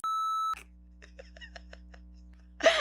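A loud, steady censor beep tone sounds for half a second, then cuts to quiet conversation with a brief louder burst of voice at the end.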